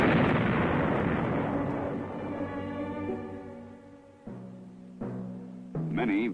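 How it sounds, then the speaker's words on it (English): A Viet Cong mine is blown up in a deep, rolling blast that decays slowly into a long rumble, followed by fainter tonal after-sounds. "The mine itself should be destroyed in the same way pressure-type mines are blown."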